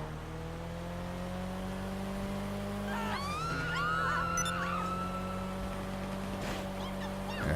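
Annis Elegy Retro Custom sports car in GTA 5 accelerating, a steady engine hum that drops then climbs through rising revs and gear changes, fairly faint and distant, with sharp chirps and clicks scattered over the top.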